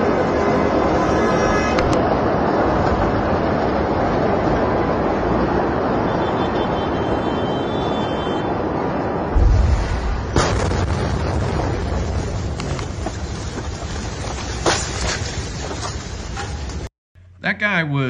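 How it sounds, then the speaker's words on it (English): Beirut port explosion of August 2020, heard from about a mile away: a steady, wind-like roar gives way midway to a deep boom, followed by crackling, rumbling noise until an abrupt cut near the end. "That guy was probably a mile or so away from this thing, and it looked like an amazing explosion."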